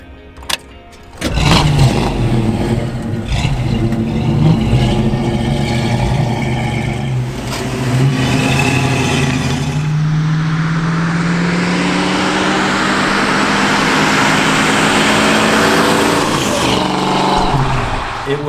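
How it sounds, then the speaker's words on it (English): A 1966 Ford Mustang convertible's engine starts and rumbles loudly, then revs and settles into a steady drone as it drives, close and continuous. "I drive a 1966 Mustang Convertible."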